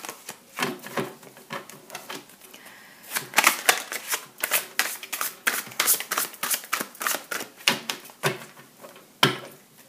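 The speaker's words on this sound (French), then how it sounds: "Et j'ai 5 cartes qui tombent." Tarot cards dealt one after another onto a surface, giving a quick series of crisp, papery snaps and slaps in an uneven rhythm, close and moderately loud with no talking.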